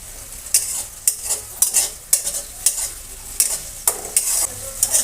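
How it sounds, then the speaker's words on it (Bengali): Spice paste sizzles in a pan, with repeated rhythmic scraping bursts from a spoon stirring it, each stroke lifting the frying hiss, at close range and with no talking. "মশলাটা কষিয়ে নেব।"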